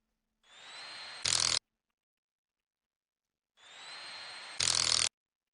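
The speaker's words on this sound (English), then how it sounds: "grab our 10 millimeter impact" A 10 millimeter impact wrench drives dashboard bolts in two separate bursts, each a steady whir of spinning up, then a brief harsh hammering rattle as the bolt seats, with silence between.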